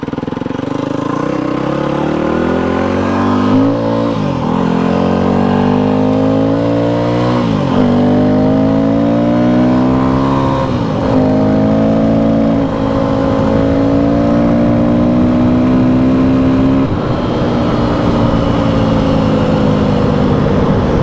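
A Yamaha WR250F dirt bike engine roars loud and close while riding in the high desert, revving up and down through repeated gear shifts with a steady buzzing drone.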